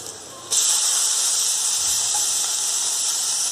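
Cucumber pieces hit a hot pan of spiced oil with turmeric, setting off a sudden loud sizzle that settles into a steady, even hiss.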